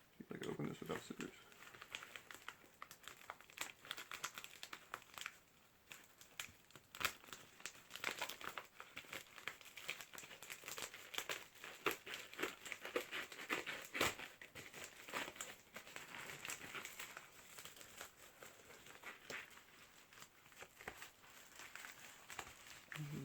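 Plastic wrapping on a video tape package crinkles and crackles steadily as it is pulled open by hand, close and continuous with occasional sharper tears; a voice may be faintly present.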